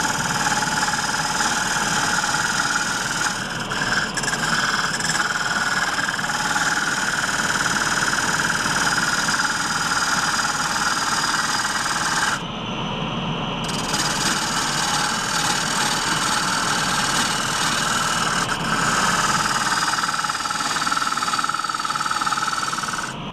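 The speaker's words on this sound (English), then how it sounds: "I have to run the exhaust fan, even though I really don't like the noise." A workshop exhaust fan runs steadily and loudly in a woodturning shop, giving a continuous whooshing roar with a faint mechanical rattle and only small shifts in tone. Nothing else is heard over it.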